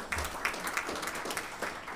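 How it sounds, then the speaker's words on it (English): Applause from a modest audience at a school district Board of Education meeting, a loose patter of claps with a few sharper individual hits standing out, moderately quiet and sustained. "just give them a big round of applause"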